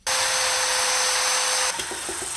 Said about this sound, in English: On the back, we've got some nice little details to drill some holes through.